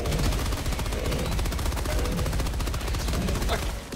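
Default machine gun firing in the co-op shooter game Helldivers 2, a loud, rapid and continuous burst of automatic fire that fills the whole stretch with evenly spaced shots, close up.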